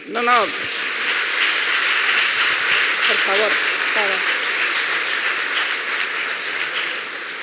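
A lecture audience at a talk on the Middle East conflict breaks into sustained applause, a broad even roar of clapping that holds for several seconds, with a speaker's voice briefly heard over it near the start and middle.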